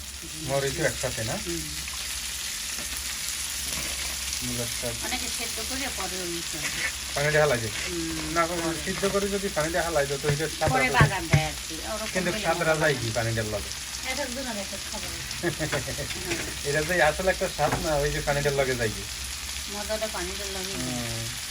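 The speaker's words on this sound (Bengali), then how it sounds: "এই যে আমাদের পেঁয়াজ ভাজা হয়ে গেছে" Onions frying in a pan for a radish greens and pangas fish dish, a continuous close sizzle running beneath a voice talking throughout.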